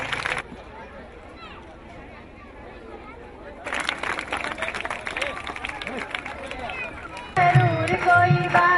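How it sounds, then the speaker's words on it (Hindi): An audience at a village event in Hirmathla, Mewat, Haryana, breaks into loud, dense applause partway through after a quieter murmuring opening, and music with singing comes in right after. "एक बार जोरदार तालियां बजाएंगे सभी"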